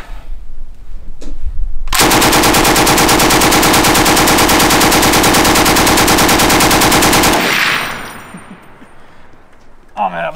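An M60 machine gun fires in the video game Arsenal, a loud, unbroken rapid burst lasting about five seconds, then a fading echo and quieter noise.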